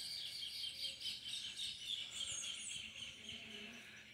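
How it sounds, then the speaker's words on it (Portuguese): Birds chirp repeatedly in quick, bright bursts over a soft background hum in Miracatu, São Paulo, Brazil, fairly close and continuous throughout. "Os passarinhos aqui."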